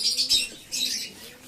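Pigeons coo and flutter in a loft during night feeding. Soft, close calls and wing rustles come in two short bursts, with no voices.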